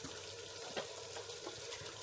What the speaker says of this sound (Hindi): और पानी भी डालेंगे